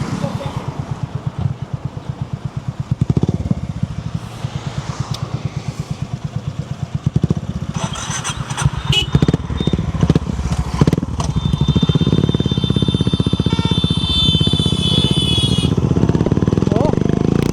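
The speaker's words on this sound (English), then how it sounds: "I will ride Shiva's CB350." Honda CB350 motorcycle engine while riding, a steady close thumping single-cylinder rumble that rises and swells as the bike accelerates, with a person talking over it.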